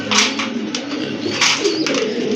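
Iranian racer pigeons coo close by in soft, throaty, repeated phrases over a steady murmur of background noise.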